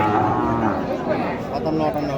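A cow lows at a busy cattle market in Kolahat, Naogaon, its deep moo rising over steady crowd chatter and nearby voices.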